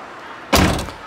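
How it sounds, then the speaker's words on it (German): A motorhome door shuts with a single close, loud thud, then the sound quickly fades. "wenn du mal gerade die Tür schließt. Mach mal zu."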